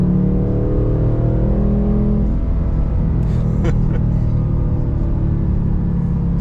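A 2025 Ford Mustang GT engine roars close by, revving up as it accelerates, with the low rumble shifting pitch mid-way; no one speaks over it.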